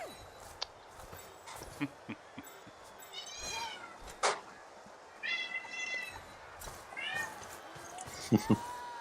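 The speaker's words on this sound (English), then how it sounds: "You can probably hear my cats in the background." Several house cats meow repeatedly in the background, thin and fairly faint, scattered through the stretch alongside small clicks and soft room noise, with a voice present.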